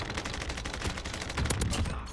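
In Call of Duty Modern Warfare, an Uzi fires in a rapid continuous stream of shots, dense and steady, heard fairly quietly with a slightly heavier burst near the end.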